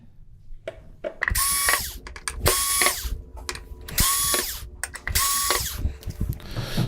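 Screws being backed out with a power driver to free the metal back plate of a Samsung UN46D6000SF LCD TV, in four loud bursts of whirring, ratcheting mechanism sound separated by short pauses and small clicks and handling noises.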